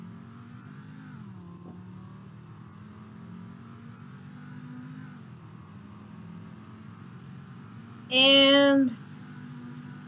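A Roblox fire truck's engine drones steadily as it accelerates, with its pitch dropping at gear changes, before a short, loud, sharp burst near the end.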